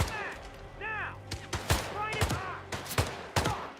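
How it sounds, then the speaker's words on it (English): Gunfire aimed at the player in the video game Hitman, heard as rapid loud close shots and bursts in an uneven rhythm, with shouting voices mixed in. "Who's shooting me from this side?"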